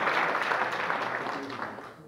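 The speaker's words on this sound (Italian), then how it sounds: "Fatemi un applauso anche per questo" A crowd at a political rally in Reggio Calabria applauds with dense clapping and some voices, loud at first and then fading toward the end.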